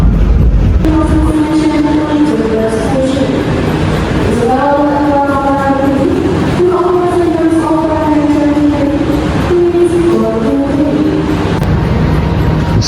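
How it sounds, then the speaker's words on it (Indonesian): The Ranggajati train pulls into Tugu Yogyakarta station, a loud close rumble with layered sliding screeches and whines from wheels and brakes rising and falling throughout. "kereta api Ranggajati masuk di Stasiun Tugu Yogyakarta"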